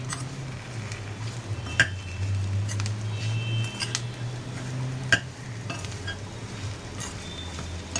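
Leftover chapati pieces coated in seasoning are stirred in an oiled pan, with a steady low sizzle under scraping and two sharp clinks of the utensil against the pan.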